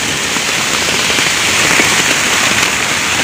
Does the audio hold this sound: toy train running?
no